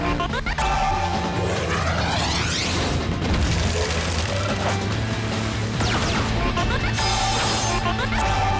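Animated cannon fire in the Slugterra cartoon: loud booming blasts and crashing impacts follow one another over a dense, busy battle soundtrack, with no talking.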